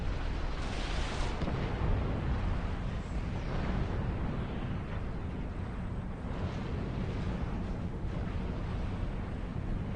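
Mobile artillery in Supreme Commander 2 pounds away in a continuous, heavy rumble of booming blasts that blend into a thick, steady roar of battle.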